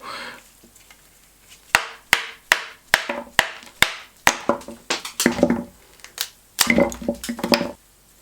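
Sharp metal knocks and cracks from taking apart the welded handle and ferrule of a rusty hand tool during restoration, a steady series of about ten loud close strikes followed by denser scraping, grinding clatter, no talking.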